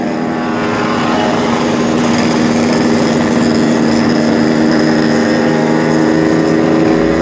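Many two-stroke motorcycles idle and rev together at a road gathering, a loud, dense, buzzing engine drone that holds steady throughout with no talking.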